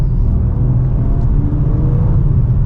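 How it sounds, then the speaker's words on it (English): A BMW M4 accelerates in its normal automatic shift mode, a loud, close, steady engine rumble and whir that holds level across the whole stretch. "So let's give it another acceleration here."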